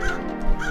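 A cartoon crow caws twice, loud and close, each call a short harsh rasp with a brief gap between them.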